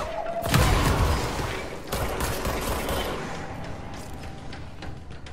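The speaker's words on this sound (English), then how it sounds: "Because I can hear the gunfire." Gunfire erupts in the video game Control, bursts of automatic weapon fire and heavy booms echoing through an indoor space, loud at first then continuing in scattered volleys at a distance.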